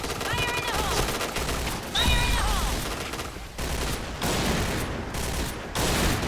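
Rapid, loud bursts from a G11 rifle in the Point Blank video game, sustained automatic fire with brief gaps between volleys, while someone talks over the shooting.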